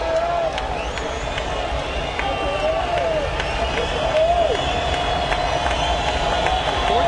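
Crowd of 14,000 at a baseball stadium for a late-inning 2-2 count, a broad steady roar of cheering under a play-by-play announcer's voice.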